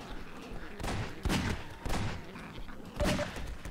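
Gunfire from a .357 Magnum in the Half-Life 2 video game, a few sharp shots spaced roughly a second or so apart, fairly quiet, with faint talk around them.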